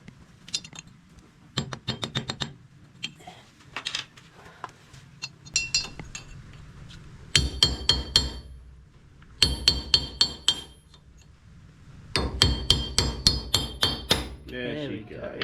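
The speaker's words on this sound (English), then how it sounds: "I might need to upgrade the hammer too." Hammer blows on a chisel against the front wheel bearing of a 120 series Toyota Prado ring out in loud, bright metallic bursts of rapid strikes, broken by brief pauses, close by with no speech.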